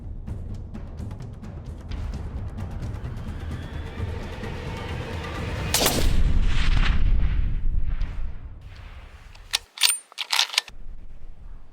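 A single loud rifle shot during a stag hunt, fired by a boy, booms close by with a broad rolling report that echoes away over several seconds, followed by a few faint clicks of the rifle's action in the quiet.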